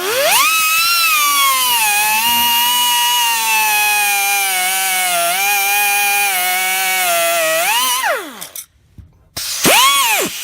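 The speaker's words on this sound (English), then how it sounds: "we're just going to use a standard cutoff wheel on here, and we're just going to zing it off" A cutoff wheel cuts through a rusty power steering line on a Ford, a loud close high-pitched whine holding steady for about eight seconds, then dropping off before a brief second burst.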